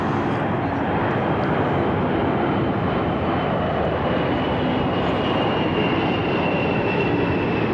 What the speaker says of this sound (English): a big British Airways jet goes thundering over